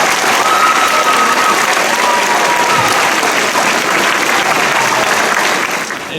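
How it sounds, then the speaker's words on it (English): Sustained round of applause from an audience at a senior oratorical contest for the student speakers: thick, continuous clapping from a large crowd that stays loud, then starts to ease off at the end. "let's give one last round of applause to every student."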